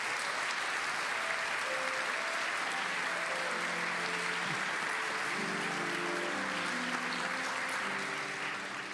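A large audience at an awards ceremony claps steadily in sustained applause for the full stretch, with faint voices and low tones running beneath that fade slightly at the end.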